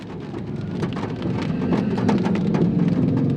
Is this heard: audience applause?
no